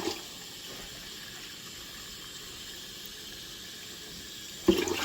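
Tap water pours steadily into a well-used saucepan in a home kitchen, a constant close hiss and splash that holds at one level before a louder clatter at the end.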